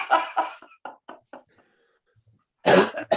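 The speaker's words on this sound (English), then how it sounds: "Right now I'm coughing again." A person coughs in a quick cluster of harsh bursts, then a few softer hacks trail off, and after a short silence one more loud, close cough erupts.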